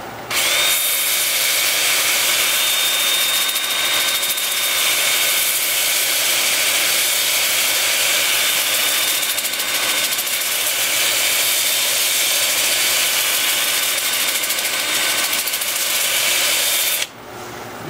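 A weeping birch piece spins on a wood lathe while being sanded from 80 up to 400 grit, a loud, continuous motor whine and abrasive hiss that holds steady before cutting off near the end.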